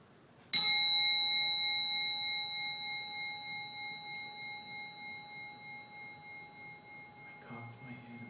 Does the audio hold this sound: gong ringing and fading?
yes